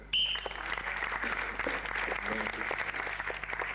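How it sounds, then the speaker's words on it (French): A church congregation applauds together after a call to praise the Lord during a 1995 healing service, steady clapping filling the room under a loud broadband wash with murmuring voices mixed in. "Applaudissons le Seigneur."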